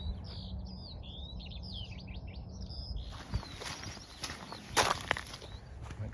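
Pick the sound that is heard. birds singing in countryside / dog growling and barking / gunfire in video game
birds singing in countryside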